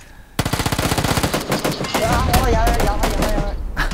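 A gunfire exchange in the video game PUBG: loud, rapid automatic bursts start abruptly and run almost without a break, overlapping with more shots, while a person speaks over them.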